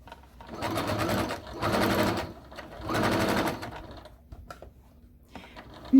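A sewing machine stitches a pillow cover with piping in three bursts of rapid, steady whirring, each a second or so long, separated by short pauses and a few small clicks, close and moderately quiet.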